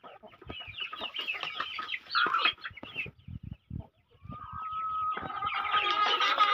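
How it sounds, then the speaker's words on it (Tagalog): Chickens cluck close by in a steady, busy stream of short calls, with denser clucking and one longer drawn-out call near the end. "So yun yung mga manok ko guys."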